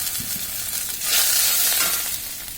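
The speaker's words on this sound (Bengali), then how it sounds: "এখন এর মধ্যে আমি সামান্য পরিমাণ পানি দিয়ে দিব মশলা কষানোর জন্য" A splash of water poured onto fried onions and spices in a hot pan for pangas fish bhuna, setting off a loud, bursting sizzle that swells midway and then settles back to a steady hiss with stirring.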